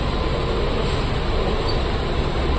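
Riding aboard an air-conditioned Vande Metro train on its inaugural Bhuj to Ahmedabad run, a constant broadband rumble and rush of the moving carriage fills the cabin evenly throughout.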